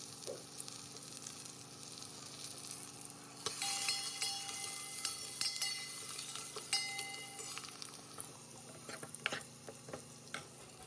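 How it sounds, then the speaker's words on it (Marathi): Spices crackle and sizzle in hot oil while tempering dal, a close, continuous frying hiss with scattered sharp pops and clicks; no one speaks. "इकडे मी वरणाला फोडणी देत आहे"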